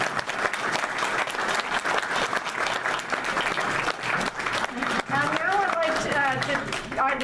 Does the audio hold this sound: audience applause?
yes